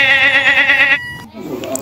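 A goat bleats once, loud and close, in a long wavering cry lasting about a second, followed by softer rustling and background noise.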